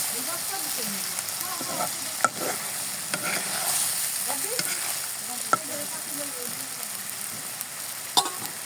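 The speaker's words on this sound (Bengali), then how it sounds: "এখন আমি এখানে দিয়ে দেব থেতো করে রেখেছিলাম জিরা আর এলাচ হালকা একটু ভেজে" Crushed cumin and cardamom fry lightly in oil for an egg dish, making an even sizzle with spoon scrapes and a few sharp taps against the pan, close up and without speech.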